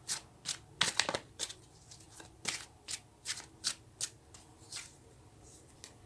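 Tarot cards shuffled by hand close up, a series of sharp papery riffles and snaps in irregular bursts with brief pauses between, and no voices.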